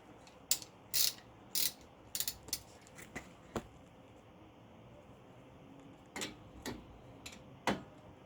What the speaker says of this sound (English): go ahead and remove the two bolts in the back, a 14 millimeter, one on top